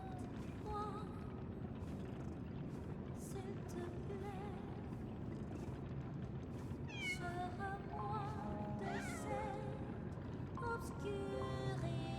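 A cat meows repeatedly inside the video game Lies of P, short rising cries scattered over a steady bed of game ambience and music, fairly faint and in the background.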